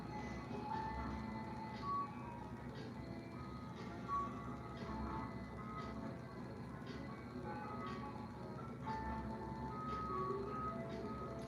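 An ice cream truck plays its jingle faintly from outside at night, the tinkling melody repeating steadily at a distance over low street rumble.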